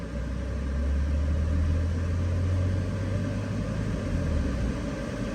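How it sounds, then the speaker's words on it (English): A turbocharged car engine held at raised revs gives a loud, steady low drone and rumble close by, which holds fairly even for several seconds before it eases off near the end. "Okay, my foot's on the gas. Let's go up in RPMs."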